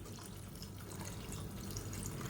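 Water runs and splashes continuously as it is poured into a pan of beetroot pakoda curry being prepared on the stove, a soft, steady liquid trickle at moderate volume with no voices.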